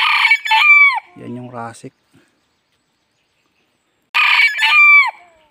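Red junglefowl crow twice, loud and close, each a harmonic rising-then-falling call, separated by a low rasping burst and a few seconds of silence; a brief spoken phrase occurs between them.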